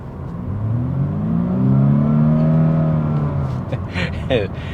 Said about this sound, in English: when I put my foot to the floor, you guys can hear it's a 4-cylinder